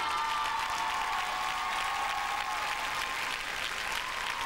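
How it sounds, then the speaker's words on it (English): An arena crowd at a 1992 rhythmic gymnastics European championship reacts loudly to a score, a continuous roar of massed voices and clapping that stays steady throughout. "The crowd just showing the disapproval there for Lukyanenko's score"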